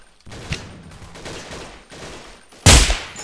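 Gunfire in the blocky shooter game Blockade 3D: a few muffled shots and bursts, followed by one loud, sharp close blast near the end.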